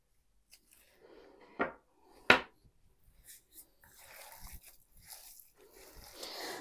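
Minced meat filling for cabbage rolls is worked by hand in a bowl, giving quiet wet squishing and mashing sounds with two sharper knocks early on, all close and faint.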